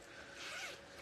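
Zipper pulled along a bag pouch, a single faint, close rasp lasting about a second, no talk.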